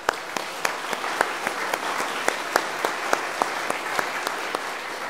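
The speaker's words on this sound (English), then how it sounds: "I think we all owe you a round of applause" A church congregation at an Easter Sunday service applauds the musicians, a dense, fairly loud wash of clapping with some sharper individual claps standing out throughout.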